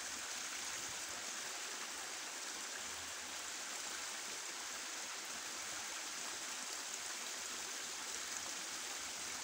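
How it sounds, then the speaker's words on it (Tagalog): A flowing stream gives a steady, soft broadband rush of water that holds evenly throughout, with no voices heard. "Yan ang sapa natin."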